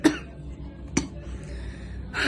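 A few short, close coughs spaced about a second apart, fairly quiet, with nothing else around them.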